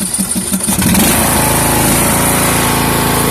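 A Poulan Pro PP175G42 riding lawn tractor engine cranks briefly and catches, then settles into a loud, steady close-up running drone.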